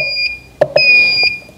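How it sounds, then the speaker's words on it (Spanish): Alarm beeping from a solar inverter, a loud, piercing electronic tone held steady with short bright chirps and clicks breaking in, close by and heard alone. "Ya me está dando una primera alarma."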